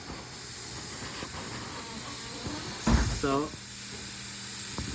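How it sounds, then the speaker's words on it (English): R-134a refrigerant hisses steadily from an open service line as a Kenmore refrigerator is purged during a recharge, a faint continuous hiss with a brief spoken word and a few handling knocks partway through. "I'm going to slowly open this to air it out, so you can hear it leaking right now"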